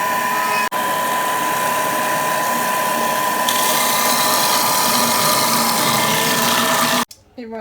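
Thermomix churning choux pastry dough at speed 5, a steady loud mechanical whir with a grinding, ratcheting texture that runs unbroken for several seconds and then cuts off abruptly.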